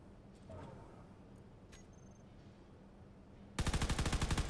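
Rapid automatic gunfire in Space Engineers erupts suddenly near the end as a loud, evenly spaced burst of closely repeating shots, following a quiet stretch of low mechanical hum and faint clicks.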